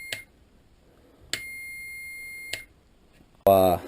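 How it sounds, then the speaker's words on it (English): A handheld multimeter on continuity mode gives three short, sharp electronic beeps at an even pace as the probes bridge headlight wiring contacts, with a longer, louder tonal buzz at the end. "You can hear it by the audible sound of my multimeter that, you know, the contacts are now bridged"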